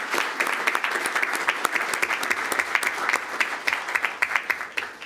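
Crowd applause at a school district board meeting honoring student state qualifiers, sustained clapping from a roomful of people with sharp individual claps standing out throughout.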